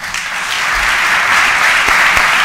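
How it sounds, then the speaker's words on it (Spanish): Attendees at a civic ceremony naming a favoured son of the city of Almería break into loud, sustained applause, a dense, close wash of clapping with no speech over it. "entre los aplausos de los asistentes"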